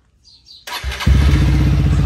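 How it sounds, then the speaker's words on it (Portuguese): Honda Titan 2023 motorcycle engine starting: a faint click, then the starter whirs and the engine catches into a loud, steady close-up idle with a rapid pulsing rhythm. "E agora vamos ligar a moto pra ver se vai funcionar o farol."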